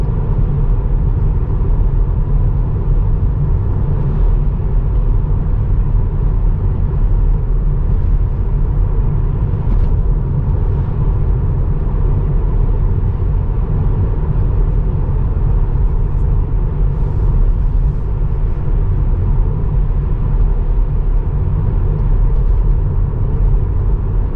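A car driving at speed makes a steady, loud road and engine rumble that stays even throughout, with no clear rise in pitch.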